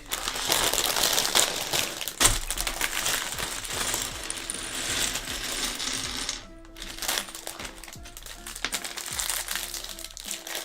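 Plastic LEGO pieces from the Ninjago Staff Gift 2021 set clatter and rattle as an all-plastic bag is opened, busy crinkling and small clicking parts filling the clip, which ends in a brief pause and then lighter rustling.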